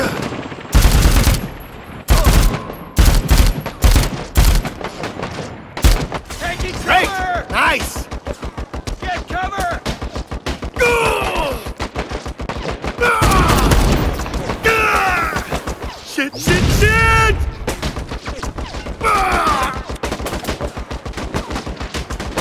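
Gunfire in the video game Dead Rising 4: repeated rapid bursts of automatic shots and single cracks over about twenty seconds, loud and close, with a character's shouted voice breaking in between the volleys.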